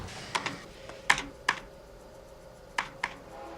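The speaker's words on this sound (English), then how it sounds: "Just use the keyboard." Sparse typing on a computer keyboard in a film scene, a handful of separate clicky key presses spaced irregularly over a quiet background, close and fairly faint.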